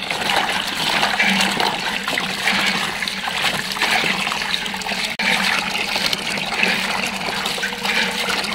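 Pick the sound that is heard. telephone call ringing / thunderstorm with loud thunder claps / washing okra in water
washing okra in water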